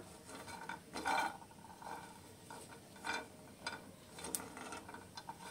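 Peanuts stirred while dry-roasting in a clay pan, giving intermittent dry scraping and rattling bursts at close range, fairly quiet, with no talk.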